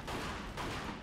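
Mafia 2 gunfire: two quick, close shots about half a second apart over a dense rumbling background, no speech.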